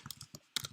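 A quick burst of keystrokes on a computer keyboard, about a handful of close, crisp clicks in uneven rhythm with a short pause, heard alone.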